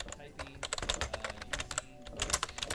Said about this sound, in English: I'm going to start typing